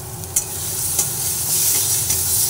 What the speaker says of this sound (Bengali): মশলাটা ভাজা হচ্ছে, সেই সময় আমি এর মধ্যে অল্প পরিমাণে জিরের গুঁড়ো দিয়ে দিলাম